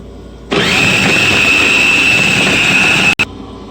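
A food processor whirs as it cuts butter into flour for cheddar cheese scones. One steady motor run starts abruptly, holds for about three seconds, then cuts off briefly and restarts.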